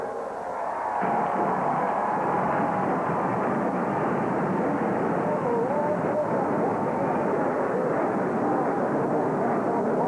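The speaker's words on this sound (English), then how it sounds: "Gentlemen and ladies, start your engine." NASCAR Sportsman Division stock car engines at a 1994 race, a loud, continuous massed roar of many engines that rises sharply after the first second and holds steady, with an announcer faintly audible beneath it.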